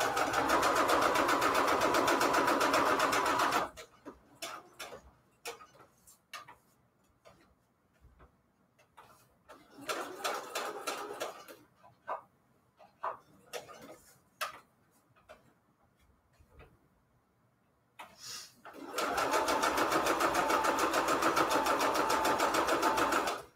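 Sewing machine stitching paper book pages into a double pocket, heard from a bit farther off than usual: bursts of rapid mechanical ticking and whirring stop and start, with quieter short runs and clicks in between, and no talk.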